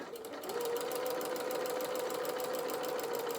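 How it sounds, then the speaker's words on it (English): A sewing machine running steadily while stitching a dart on a Bramble Bear toy body, a fast even mechanical whir with rapid needle ticks, close and alone. "we're going to sew down towards the end of this dart"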